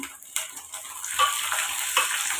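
Sliced onions frying in a pan for chicken biryani, browning toward red, giving a close, continuous bright hiss with faint ticking spatters throughout and no talking.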